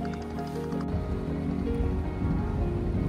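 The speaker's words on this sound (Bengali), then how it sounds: "চারপাশে শুধুই ট্রলারের ধ্বনি" A trawler's engine drones low and steady on Tanguar Haor wetland, with a soft wash of water and faint rattling over it.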